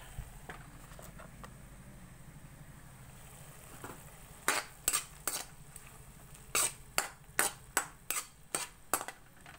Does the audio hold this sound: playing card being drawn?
no